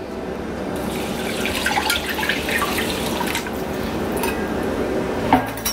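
Water is poured steadily into a cooking pot holding steel-cut oats, about four cups in all, with a continuous splashing rush and a faint clink of cookware near the end; nobody speaks.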